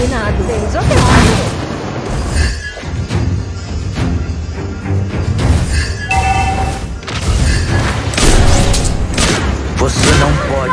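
Loud, dense explosions and booming impacts from the Mobile Legends: Bang Bang mobile battle game, arriving in rapid overlapping bursts across the whole stretch, with in-game voice lines over the top.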